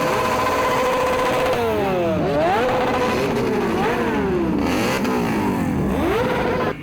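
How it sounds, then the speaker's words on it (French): Several motorcycles rev repeatedly at a road safety event for motorcyclists in Burkina Faso, their engine pitch rising and falling in overlapping sweeps, loud and close throughout. "La passion de la moto se veut responsable avec une forte préoccupation pour la sécurité routière"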